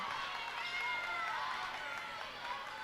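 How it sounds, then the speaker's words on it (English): Visiting basketball crowd at a girls' high school game, Breckenridge Cowgirls versus Perham Yellowjackets, a steady distant roar of cheering spectators filling the whole stretch under a commentator's voice. "Their crowd traveled well tonight. They're supporting them."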